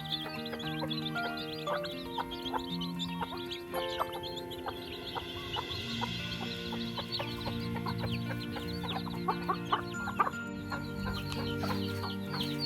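Chickens cluck and chatter continuously nearby, with a few sharper calls rising above a steady low background of fowl sounds.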